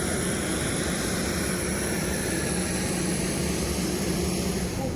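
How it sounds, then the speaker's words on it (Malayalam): Aircraft engines roar steadily at an airport in Kazakhstan, a broad continuous rumble with a faint high whine, loud and unbroken with no talk. "തലങ്ങും വിലങ്ങും ഓടുന്ന വിമാനങ്ങൾ കണ്ടുകൊണ്ട് ഞാൻ ഈ നാടിന്റെ മണ്ണിൽ നിന്നും വിമാനത്തിലേക്ക് കയറുകയാണ്"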